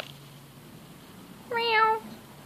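A single short meow from a nearby cat, rising then falling, standing out over a quiet background.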